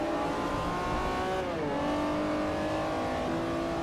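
A race car engine in the Forza Motorsport 4 video game drones loud and steady at high revs as the car drives. The pitch dips briefly midway, likely a gear shift, then climbs again.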